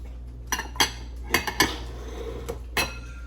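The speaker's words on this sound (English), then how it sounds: "I'm going to skim the fat off of the pot" A spoon or ladle skims fat from a pot of menudo rojo, knocking and clinking against the metal pot edge in a few sharp, close taps with quiet gaps between.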